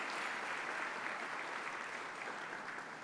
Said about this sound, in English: please give a round of applause for the Washington Tattoo